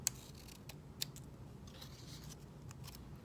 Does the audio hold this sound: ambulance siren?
no